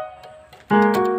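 A sustained grand piano voice from a Yamaha PSR-S775 keyboard, a held note then a louder chord struck, ringing on clearly and close.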